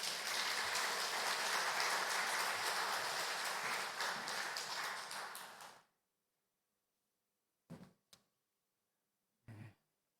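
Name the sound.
congregation applauding to welcome the pastor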